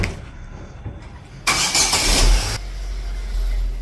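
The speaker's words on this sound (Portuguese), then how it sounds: "Aí, o Xande vai manobrar os carros." A car engine cranks and catches after a quiet moment, bursting loudly for about a second, then settles into a lower, steady idle rumble as the car is started to be moved.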